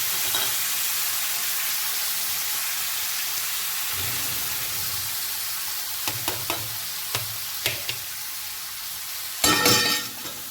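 Curry broth (rassa) hits a hot pan and hisses in a steady, loud sizzle, broken by a few sharp spatters and clinks and a louder burst near the end.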